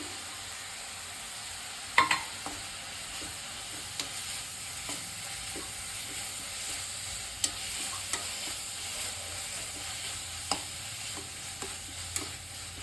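Carrot being stir-fried in a pan for a chickpea usli dish, a soft steady sizzle with scattered scraping and tapping of a spoon against the pan, faint and close, without talk.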